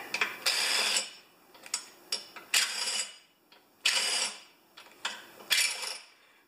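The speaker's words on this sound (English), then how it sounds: "let's get this head gasket off of here." Ratchet wrench loosening head bolts on a 6HP Craftsman mower engine, short bursts of clicking ratchet strokes repeated about five times with brief pauses between, close and fairly clear.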